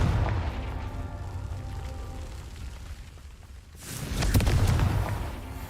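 A Confringo fire-blast spell in Hogwarts Legacy bursts into a deep, rumbling explosion after a quieter stretch, loud and booming before it fades.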